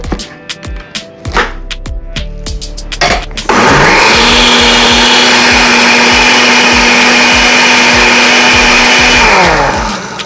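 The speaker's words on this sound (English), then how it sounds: "every blender is gonna make noise" Scattered clicks and knocks, then a blender blending pineapple, cucumber, ginger and lemon juice whirs on loudly with a steady high-pitched motor whine and churning roar for about six seconds before winding down.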